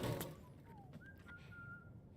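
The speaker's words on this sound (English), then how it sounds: "I hear a person whistling in the distance." A faint, distant whistle traces a few thin sliding tones over quiet outdoor ambience.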